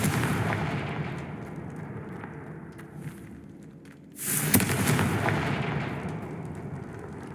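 Magic spell blasts, Confringo fire bolts, in the Hogwarts Legacy video game final battle: a dense, rumbling, explosive barrage that eases off, then a sharp new blast bursts in near the four-second mark and keeps roaring loudly.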